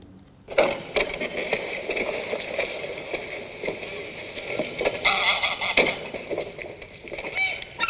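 Ducks quack and honk in a busy, fairly close cluster, with calls overlapping steadily throughout.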